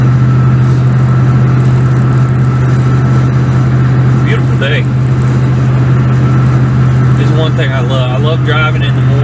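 Car driving on the road in the morning, a loud constant low engine and road rumble inside the cabin, with someone talking over it.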